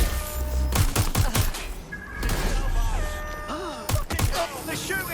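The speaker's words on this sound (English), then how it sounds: "They're shooting at us." Rapid bursts of automatic gunfire clatter in a Watch Dogs Legion firefight, loud and close, in quick volleys with brief pauses, mixed with game music tones and a voice talking.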